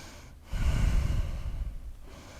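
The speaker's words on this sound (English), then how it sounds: "Take a few deep breaths here." A single deep, audible breath during a seated yoga shoulder stretch, a close, breathy exhale lasting about a second and a half, heard alone.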